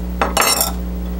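Utensils clinking against dishes as food is sliced, two quick close metallic strikes over a steady low hum, then quiet.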